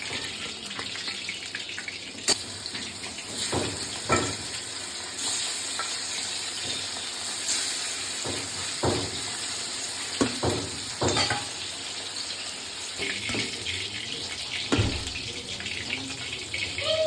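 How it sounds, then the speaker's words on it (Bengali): Hilsa fish frying lightly in a pan in a home kitchen, a soft continuous sizzle with occasional sharper clinks and stirring knocks, no voices. "হালকা ভেজে নিতে হয়।"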